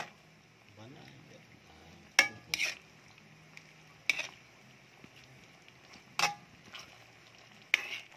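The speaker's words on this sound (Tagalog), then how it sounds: "Para hindi siya magbuo, halu-haluin nyo hanggang sa kumulo." A utensil scrapes and knocks against a pot of coconut milk for Bicol Express in a few sharp, spaced strokes over a quiet low bubbling background, fairly close.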